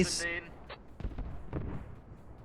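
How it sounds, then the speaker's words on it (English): Mortar shells land in an urban armored battle game between US and Russian forces, a few dull thuds and booms thumping out one after another over a second or two, mid-distance and fairly loud, mixed with game noise and some voice. "Mortars. Oh, that's actually landing right on it."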